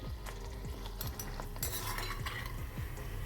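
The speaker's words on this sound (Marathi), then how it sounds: "अशाप्रमाणे मी सगळ्या तळून घेते" Sweet potato puris fry in hot oil in a pan, a soft steady sizzle mixed with scraping and clinking of a metal utensil against the pan, close and fairly quiet.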